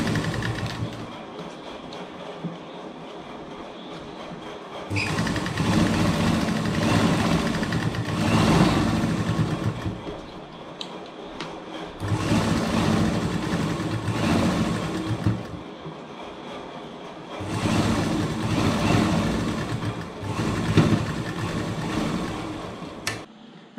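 A sewing machine top-stitches the hem of a petticoat in three long mechanical runs of rapid clattering stitching, with quieter pauses between runs.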